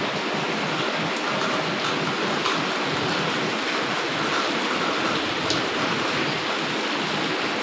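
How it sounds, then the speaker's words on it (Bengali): Rainwater leaking through a damaged roof and dripping from above during rain, a steady dense wash of water noise with faint drips, continuous and fairly loud throughout, no talking. "অবস্থা দেখো, উপর থেকে জল পড়ছে।"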